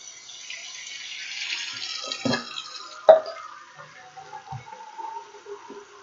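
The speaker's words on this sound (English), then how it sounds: "Fill up my container with 32 ounces." Water runs into a container at a salon or barbershop station, a faint hollow trickle with a few small splashes and knocks and one sharp clunk midway, fairly quiet throughout.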